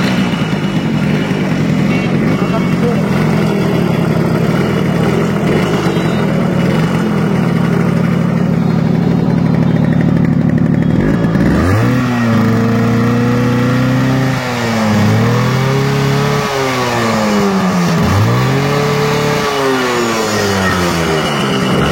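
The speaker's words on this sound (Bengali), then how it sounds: "বাইকের সাউন্ডটা শুনলেন" A restored Yamaha RX100 motorcycle engine idles with a loud, steady, close burble, then is revved repeatedly, each rise and fall of engine speed clearly audible as the throttle is blipped.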